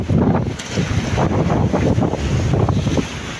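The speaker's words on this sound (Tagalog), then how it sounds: "Sa ngayon wala ng ulan pero may hangin pang natira." Strong gusts batter the microphone out on the open sea near a fishing boat, a loud continuous roar with rushing surges and buffeting low rumble throughout, no voices.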